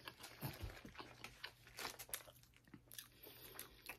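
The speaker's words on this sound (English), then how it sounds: "let me eat my damn gordita crunch" Someone bites into and chews a crunchy Taco Bell gordita crunch with a taco shell inside, giving quiet, close, irregular crackling crunches and faint wrapper crinkles over a few seconds.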